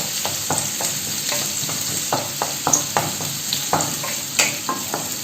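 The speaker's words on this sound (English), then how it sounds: "immediately add in the French beans, which have been thin diamond shaped cuts. Give it a good stir." Thin diamond-cut French beans tossed into a hot pan with garlic crackle and sizzle steadily, with repeated scraping stir strokes and utensil clinks landing in an uneven rhythm, close and moderately loud, with no talking.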